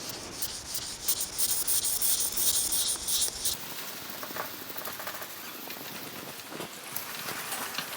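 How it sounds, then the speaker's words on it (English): A car bumper is wet-sanded by hand with 1000 grit sandpaper, giving a loud, close, steady rubbing and rasping that grows quieter and patchier partway through. "I'm not using a sanding block now. I'm just using my hand and wet sanding it."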